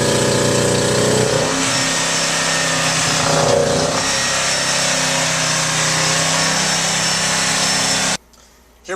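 A generator and motors run steadily in the motor compartment of a 2004 Formula 330 SS Sun Sport boat, a loud continuous mechanical drone that cuts off abruptly near the end.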